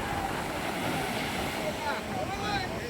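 Strong wind and surging sea waves on the Vizhinjam coast, a steady broadband roar of surf and gusts with no break across the whole stretch.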